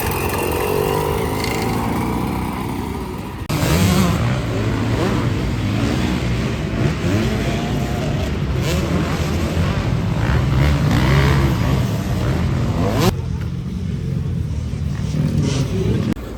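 Motocross motorcycles racing in qualifying practice at a Normandy MX round in Saint-Valery-en-Caux, engines revving and droning continuously and loudly, with bikes rising and falling in pitch as they pass.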